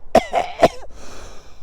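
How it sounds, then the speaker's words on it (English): A person coughs three times in a quick harsh burst, close and loud, followed by a short rasping breath in a quiet setting. "Excuse me, made me cough my brains up."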